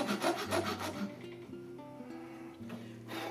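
A hacksaw blade rasps in a few quick strokes cutting a self nock, close and distinct, then gives way to a low steady hum.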